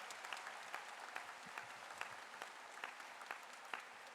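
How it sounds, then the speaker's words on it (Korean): Scattered applause from a concert audience for a composer at a national museum commemorative performance: distinct, fairly quiet claps spaced irregularly over a soft crowd background. "박수 부탁드립니다."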